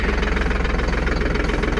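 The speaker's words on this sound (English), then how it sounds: "Hopefully this tractor will get warmed up in a minute." A tractor engine idling while warming up, a loud, close, steady rhythmic chugging knock with no talking.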